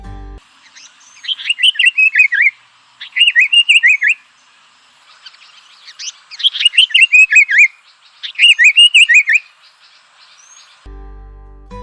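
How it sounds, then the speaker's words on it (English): African paradise flycatcher giving its harsh, rasping scolding call in four loud, close bursts of rapid buzzy notes, separated by short pauses, with no other sound around them. "The African paradise flycatcher is a noisy bird with a harsh scolding call."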